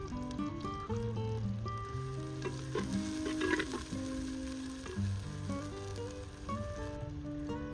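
Onion frying in mustard oil for a village-style chicken curry, a loud continuous sizzle with stirring scrapes and a brief louder burst midway, while music plays underneath.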